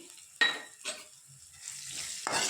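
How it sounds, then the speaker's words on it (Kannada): Garlic, ginger, cumin and pepper fry in a pan with a few soft sizzling bursts, close and moderately loud, broken by brief stirring and light clinks of utensils; no voices. "ಬೆಳ್ಳುಳ್ಳಿ ಹಾಗೆ ಶುಂಠಿ ಜೀರಿಗೆ ಮೆಣಸು ಹಾಕಿ ಫ್ರೈ ಮಾಡ್ಕೊಳ್ತೀನಿ"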